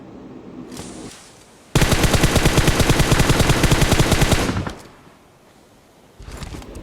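Heavy automatic gunfire in a battle royale shooter: a loud, rapid, evenly spaced burst of about three seconds, close up, with quieter single shots and game noise before and after.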